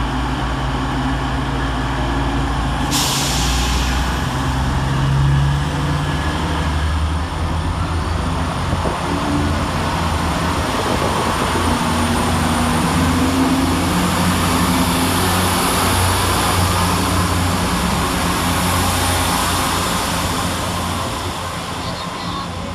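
East Midlands Railway train 180113 pulling into Leicester station on a London St Pancras service, a steady low engine rumble that holds loud and constant throughout, with faint voices in the background.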